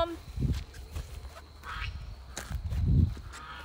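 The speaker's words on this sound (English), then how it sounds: "I already hear Lucy Goosey" A goose honks at a small farm during evening chores, giving a few short nasal calls at a moderate distance, with light ambient noise between them.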